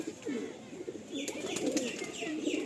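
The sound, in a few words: Punjab Malbai pigeon cooing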